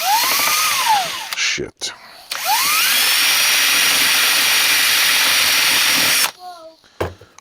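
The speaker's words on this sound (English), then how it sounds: "How do you drill out a rivet that keeps spinning?" A power drill whines at high speed as it tries to drill out a rivet that keeps spinning in metal, with sweeping pitch changes, two long bursts broken by a sharp stop, and a man swearing briefly near the end.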